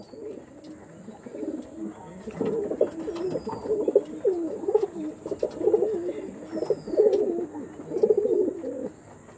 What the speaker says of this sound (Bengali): সব কটা বন্ধুরা ডিপ চোখের পায়রা আছে আজকে বেশিরভাগই